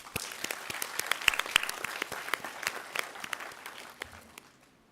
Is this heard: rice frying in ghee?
no